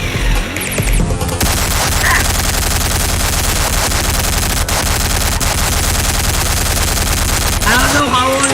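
A minigun blazes without a break in Garry's Mod during a laggy boss battle, a loud dense stream of rapid-fire shots lasting several seconds. Game effects and chirps sit at the edges, with no voices heard.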